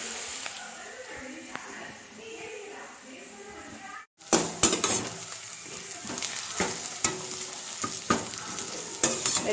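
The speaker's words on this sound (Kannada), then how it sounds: "ಸ್ವಲ್ಪ ಬೆಂಡೆಕಾಯಿ ಫ್ರೈ ಮಾಡ್ತಿದ್ದೆ ಸಾರಿ ನುಗ್ಗೆಕಾಯಿ ಫ್ರೈ" Drumstick (moringa) pods frying in a pan at home, a steady hiss of oil with clicking stirs, briefly cut off partway, then returning louder with sharper spatula knocks against the pan.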